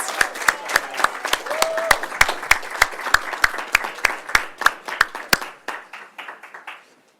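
Applause from an audience at a regular public meeting, a steady run of sharp, close hand claps that tapers off and stops, with faint voices mixed in.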